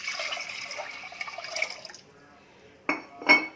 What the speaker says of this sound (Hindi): इसमें मैं डालूंगी 750 ml पानी